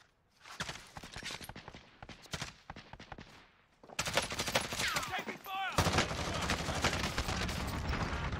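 Call of Duty Warzone gunfire crackles in rapid bursts, first scattered single shots and then sustained automatic fire and heavy volleys, loud and close.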